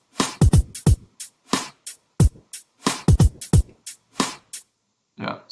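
A simple electronic drum sequence of punchy kicks, sharp snares and crisp hi-hats in a clean, steady groove, each hit loud and distinct against silence.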